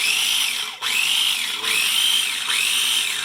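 A kitchen grinder chopping sauce ingredients on its low setting, a steady whirring hum broken by three brief dips as it pulses, close and alone.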